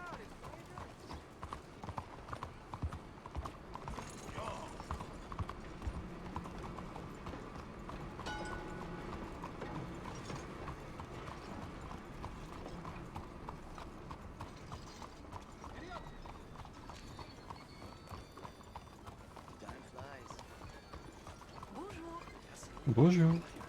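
A horse gallops in the video game Red Dead Redemption 2, its hooves clip-clopping in a steady, continuous rhythm under ongoing talk and a faint game soundscape.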